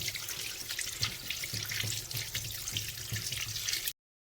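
Tap water runs steadily into a sink as green vegetables are rinsed under it, a continuous splashing hiss with small surges that stops abruptly near the end.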